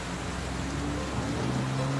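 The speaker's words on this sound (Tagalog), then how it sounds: "Malakas ang ulan." Heavy rain pours in a dense, steady hiss at full loudness, with faint low tonal hum threaded through it.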